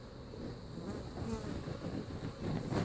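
Honey bees in a top-bar hive make a constant soft, dense buzzing hum that rises and falls slightly, faint and close, with a little wind noise.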